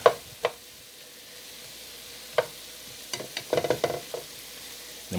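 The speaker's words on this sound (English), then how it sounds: "I'm gonna let these onions reduce a little more" Onions frying and caramelizing in a pan for cabbage and kielbasa, a low steady sizzle broken by several sharp clacks and a busy cluster of stirring scrapes near the end, no talking.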